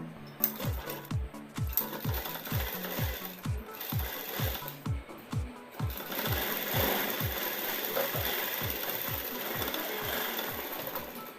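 A sewing machine runs a blouse seam in steady bursts, its rapid needle chatter rising and pausing in short rhythmic runs, close and fairly loud, with no talking.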